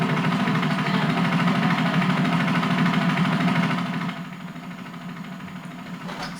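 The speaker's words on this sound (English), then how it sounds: "It's a pretty good tractor," A Farmall tractor engine idles with a steady low rumble, then drops to a quieter idle partway through; no talking.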